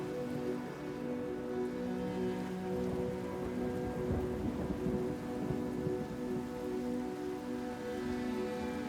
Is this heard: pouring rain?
yes